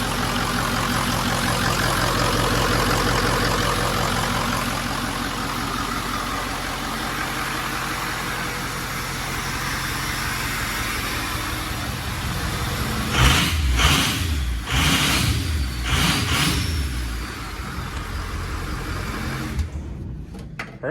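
A 6.0L Ford SuperDuty engine swapped into a 1974 Ford Dentside crew cab, running at a steady loud idle for about twenty seconds, with a few brief rougher surges toward the end.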